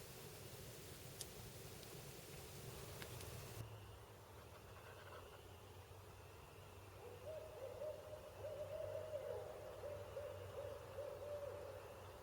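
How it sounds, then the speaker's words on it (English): Two owls hoot softly in the afternoon outdoors, faint and somewhat distant, with a low steady rumble underneath and a later drawn-out hoot. "I've got two owl buddies this afternoon"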